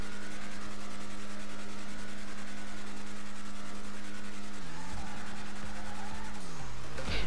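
A Lampadati Viseris sports car in GTA Online holds a loud, steady engine drone with a strong buzzy tone, then the pitch dips and shifts near the end as it changes gear or speed, with no talking.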